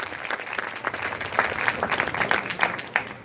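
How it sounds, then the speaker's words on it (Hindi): Audience applause welcoming the school principal at a Shivratri celebration, lively clapping with distinct individual claps standing out, loud and close, rising and falling in uneven bursts with no speech over it. "तालियों से उनका स्वागत और आभार प्रकट करें।"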